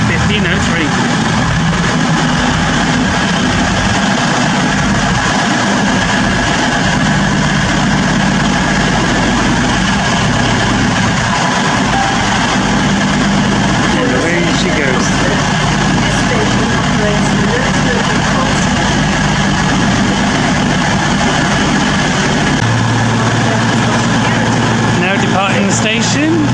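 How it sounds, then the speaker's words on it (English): A cross-country passenger train pulls out of Stafford station on the West Coast Main Line, a loud, sustained low engine rumble and drone holding steady throughout, closing with a shift in tone near the end. "Departing the station is the 1503 cross-country service to Manchester Piccadilly from Bristol Temple Mead."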